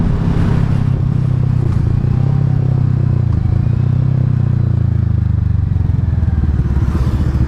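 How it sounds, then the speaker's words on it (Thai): A vehicle's engine rumbles loud and close as it cruises slowly around an empty road and swings through a U-turn, with a steady drone that dips and rises slightly. "เดี๋ยวขอยูเทิร์นไปใหม่ดีกว่า เดี๋ยวขับวนๆแถวนี้แหละเพราะว่าถนนมันค่อนข้างจะโล่งนะฮะ"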